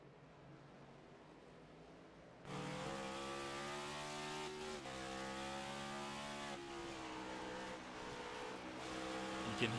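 A race car in a NASCAR-style cup series racing game at Watkins Glen cuts in suddenly with a loud, high engine roar, its pitch rising and falling as the driver works the throttle and brakes through the corners.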